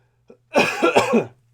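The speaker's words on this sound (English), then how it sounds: "Cough intermission." A single close, raspy cough with a couple of quick bursts, preceded by a tiny click, over a low steady hum.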